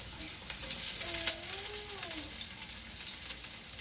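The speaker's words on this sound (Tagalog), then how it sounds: "Igisa ko na agad tong ating garlic and onion." Garlic and onion sauté in hot oil in a home kitchen pan, giving a steady close sizzle and crackle that holds for the whole stretch.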